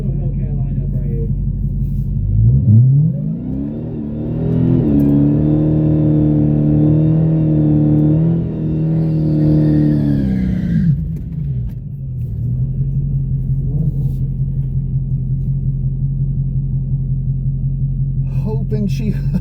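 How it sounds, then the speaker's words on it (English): Dodge Hellcat cars at a drag strip: a deep engine roar swells and holds for several seconds, then fades into a steady low idle rumble, with a person talking over it. "Up next, we got a nice little Hellcat lineup right here."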